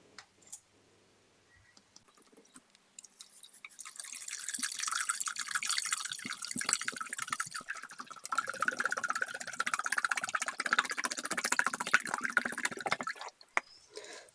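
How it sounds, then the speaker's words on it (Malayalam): Water poured into a homemade DIY waterfall model with a submerged motor, a steady splashing and trickling stream that starts after a few quiet seconds, continues for about ten seconds, then stops, with a few small clicks and drips around it. "ഇനി നമുക്ക് വെള്ളം ഒഴിച്ചു കൊടുക്കാം ഇതിലേക്ക്"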